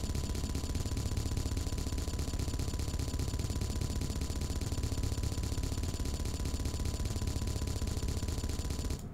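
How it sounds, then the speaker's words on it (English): Gatling turret in Space Engineers firing at light armor, a continuous dense roar of rapid gunfire that stays loud and unbroken throughout. "that was light armor with the Gatling turret"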